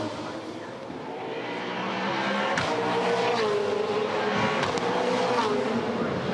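V8 Supercars race cars roar around the stadium section of the Sydney 500 street circuit, a continuous loud engine drone with rising and falling pitch as cars pass and brief tire squeal.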